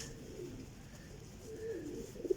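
High-class racing pigeons coo softly, a few low throaty coos rising near the end over faint background noise.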